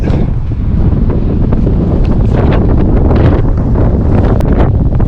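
Strong wind roars and buffets around a tall ponderosa pine high up in its crown ahead of a snow storm, a loud, continuous gusting rumble right at the microphone.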